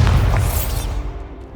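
Confringo and Bombarda spell explosions in Hogwarts Legacy: a loud, heavy boom with a sharp crackling burst that rolls into a fading low rumble, up close with no voices over it.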